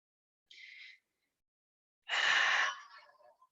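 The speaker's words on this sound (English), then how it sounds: "we might start to breathe in through the nose and exhale out of the mouth" Two breaths during a mat Pilates class: a short, soft airy inhale through the nose, then after a pause a longer, louder whooshing exhale through the mouth that tails off gradually, close and alone.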